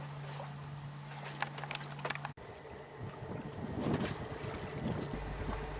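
The sailboat Magic Hawk moves under sail at about 3 knots near Conwy, with gusty wind buffeting the microphone and water washing and rushing along the hull, fairly loud and continuous.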